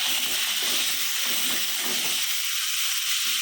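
Tomato drops into a hot pan of browned masala while cooking fish curry, setting off a loud, steady hissing sizzle that stays strong and close throughout.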